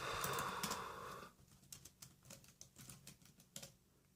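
Keys clatter on a Mac computer keyboard, first a dense burst of typing, then a string of separate, fairly quiet clicks close by, with no voices.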